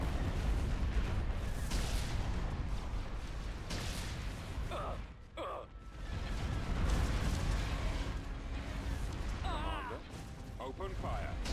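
Starship weapons in Star Wars Thrawn's Revenge fire as a continuous rumbling barrage of blasts and booms, with a short lull partway through and a voice speaking over the battle.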